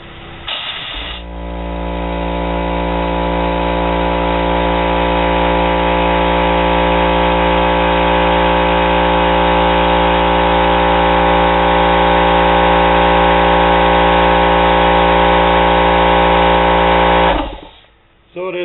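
Electric air compressor running at close range: a steady, loud motor drone with a strong hum builds up and holds, then cuts off near the end at the pressure limit.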